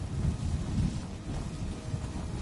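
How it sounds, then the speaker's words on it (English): Rumbling thunderstorm in the Soul Cairn of the video game Skyrim: low, continuous rolling thunder with windy rain-like hiss at moderate level, no talking. "That was a thunderstorm."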